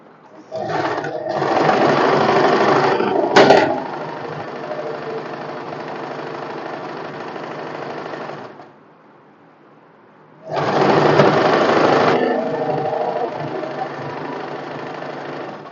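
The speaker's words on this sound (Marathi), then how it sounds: "आता आपण फिटिंग शिलाई मारून घेऊया वरून खाली" Sewing machine running fitting seams down a cotton summer one-piece dress, a loud steady motor whir in two long bursts with a short pause between them.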